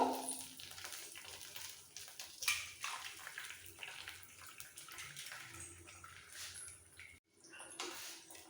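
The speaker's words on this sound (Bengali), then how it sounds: "এর মধ্যে ডিমটা দিয়ে দেবো যেটুকু তেল আছে ডিমটাও ফ্রাই করে নেব" Three eggs fry in leftover oil in a pan while fried rice is being made, giving a steady, close sizzle that runs alone before briefly dropping out near the end.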